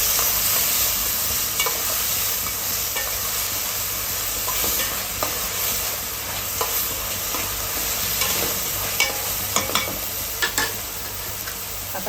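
Onion softening as it fries in a pan, stirred steadily, with a continuous close sizzle and occasional scraping clicks from the spoon for the whole stretch, no voices.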